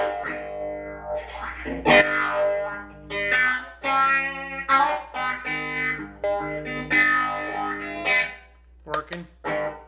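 A guitar is played through a phaser effect pedal on a freshly wired pedalboard, its bright, harmonic notes sweeping and swirling as phrases start and stop, loud and up close.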